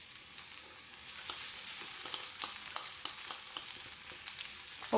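Grated coconut roasting in a non-stick pan for a chicken curry, a soft dry crackle with regular light scrapes of stirring, fairly quiet and close, no voices.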